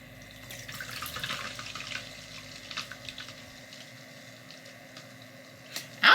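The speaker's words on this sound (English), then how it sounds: "it says fill it up with water and plug it in" Water runs and trickles into a brush cleaner, a quiet steady flow with small drips and splashes, ending in a sudden louder burst.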